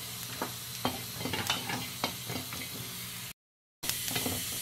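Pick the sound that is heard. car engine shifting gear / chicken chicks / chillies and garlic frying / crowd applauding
chillies and garlic frying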